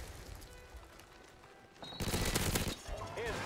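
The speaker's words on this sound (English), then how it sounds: "Flashbang." A flashbang grenade bursts in a video game, a loud sudden blast with a ringing tail that follows a stretch of quieter game noise and a speaker's voice.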